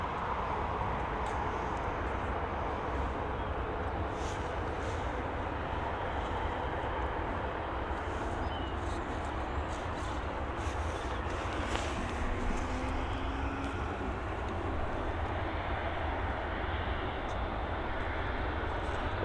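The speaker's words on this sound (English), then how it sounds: "We've got this KLM City Hopper coming in." A KLM Cityhopper aircraft arrives at Dublin Airport, its broad, steady jet-engine roar filling the scene at moderate distance, loud and continuous without any talking.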